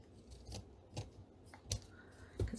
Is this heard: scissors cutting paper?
yes